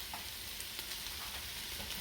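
Tomato paste with dried basil being mixed into a large batch of lasagne filling, giving a steady dense sizzle with faint scraping of the spoon throughout.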